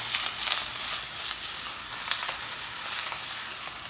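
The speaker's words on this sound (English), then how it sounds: "So we have the chard, which is nicely sauteed." Chard sautéing in a pan gives a steady, close sizzle with small crackling pops throughout, no voices.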